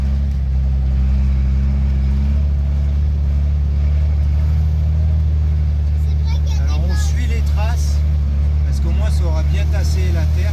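Car pushing through a flooded river crossing, a steady loud low engine rumble with water churning around it, while people talk over it in the second half.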